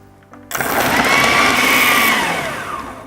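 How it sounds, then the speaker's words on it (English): A blender whizzes a kale falafel mixture with fresh parsley, kicking in loudly after a brief quiet moment and running steadily in a dense, whirring roar with a rising motor whine. "And we're going to whiz it all up."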